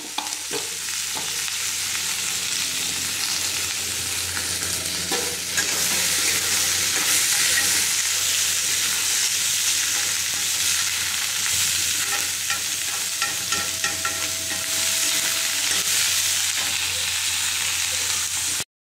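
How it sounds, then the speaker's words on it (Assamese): Vegetable chowmein with cabbage, onion, soy sauce and tomato sauce sizzles loudly in a pan, a steady close hiss with frequent scraping stir strokes throughout. "সস আৰু টমেটো সস দি ধুনীয়াকৈ মানে অলপমান ভাজি লও"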